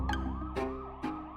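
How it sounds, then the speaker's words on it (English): Police sirens wail from a distance, their tones sweeping up and down in overlapping cycles, with two brief bursts of broadband noise breaking through the steady siren drone. "You can hear police sirens in the distance now"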